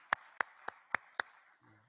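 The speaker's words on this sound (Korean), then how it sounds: "박수로 환영하겠습니다" A church congregation claps to welcome a newcomer. Five sharp, crisp claps land in an even, steady rhythm, then fade to a faint low murmur.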